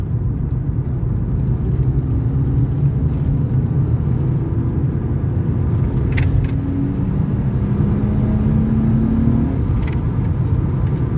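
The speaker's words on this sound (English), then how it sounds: "It's just what you want to hear from your old school straight six." The straight-six engine of a BMW E36 328i drones at low revs, its throaty rumble and intake noise holding constant with faint whirs rising briefly over it.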